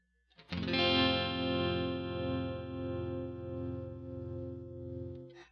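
A sustained guitar tone runs through an MD-200 modulation pedal's tremolo set to its sine-wave shape, swelling and dipping in a smooth, steady pulse for about five seconds before cutting off.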